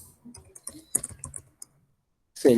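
Sharp computer mouse clicks in a spreadsheet program while inserting and shifting cells, a few quick taps spread among quiet speech-like clutter, close and moderately loud.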